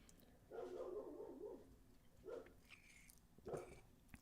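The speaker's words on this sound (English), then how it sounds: "Sorry if you can hear a dog barking." A dog barks somewhere in the background in a few separate bursts, muffled and moderately loud, with quiet indoor room tone between the barks.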